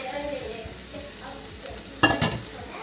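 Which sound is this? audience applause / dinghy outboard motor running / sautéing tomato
sautéing tomato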